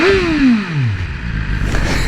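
A 2022 BMW S1000R naked motorcycle revving up close, its engine note falling sharply after a high rev and then settling into a rough, loud idle rumble.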